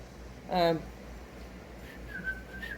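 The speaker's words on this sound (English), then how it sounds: "Oh yeah, I can still whistle" A short vocal sound with stacked harmonics is followed by a person whistling a few faint, high sustained notes over a low background hum.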